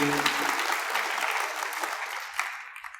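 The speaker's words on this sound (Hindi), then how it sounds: "जफर महमूद साहब के लिए भी आपको एक ताली, जोरदार ताली देनी चाहिए" An audience at an education event claps loudly, a dense burst of applause that slowly fades over a few seconds.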